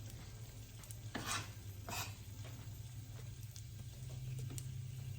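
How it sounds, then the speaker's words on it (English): Chopped onion sizzles in a frying pan alongside bell peppers, a steady soft crackle with a few sharp scraping stirs of a utensil against the pan, close and fairly quiet, with no talking. "at least we're starting to get a little sizzle in the pan"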